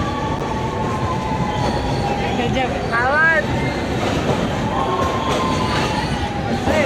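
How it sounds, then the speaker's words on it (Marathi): A train roars loudly and continuously through an enclosed underground tunnel, wheels rumbling and squealing in rising whines over the constant din. "त्यानंतर मस्त भुयारी मार्गातून ट्रेन गेली"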